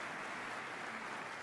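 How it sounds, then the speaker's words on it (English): An audience applauds at a live event, a faint, even wash of clapping from a distance that holds steady throughout without any voices. "I'd like everyone to give a round of applause to Corey and Matt"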